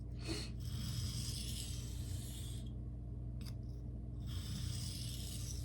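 A knife blade drawn free hand across a Shapton Glass or Naniwa whetstone, giving soft repeated rasping strokes in a steady back-and-forth rhythm, close and fairly quiet, with short pauses between passes.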